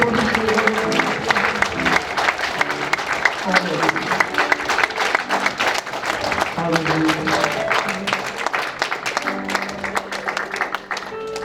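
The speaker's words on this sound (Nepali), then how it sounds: "उहाँले गर्नुभएको महान हामी ठुलो ताली बजाउनेछौँ" A church congregation claps and applauds steadily for several seconds during a worship service, with voices and other sound mixed in beneath the clapping.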